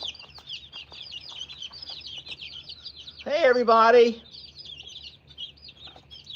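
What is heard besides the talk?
rooster and chickens clucking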